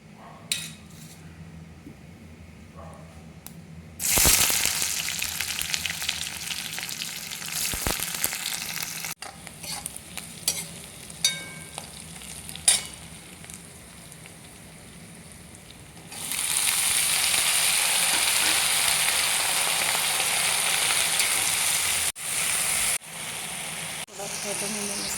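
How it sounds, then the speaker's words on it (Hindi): Chopped onion dropped into hot tadka oil in an Indian home kitchen, bursting into a loud, steady hiss that swells midway and holds, with brief stirring clinks and someone talking over the sizzle. "मैं प्याज चॉप कर चुकी हूँ, अब उसको डालती हूँ चॉप।"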